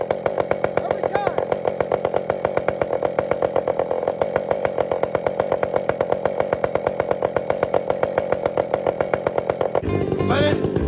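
A chainsaw buzzes steadily under full load while bucking through wood, its fast even engine note sustained and close for about ten seconds before it shifts pitch at the end.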